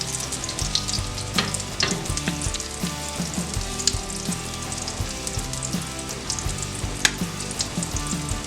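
Salmon cakes fry in hot oil in a pan, giving a steady dense sizzle with crackles and occasional pops, close and continuous with no talk.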